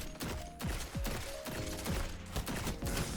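Admetus-D scout rifle fire in Destiny 2: a series of sharp, punchy shots at a steady, rhythmic semi-automatic pace, about six to seven reports with mechanical tails, loud and close with no talking.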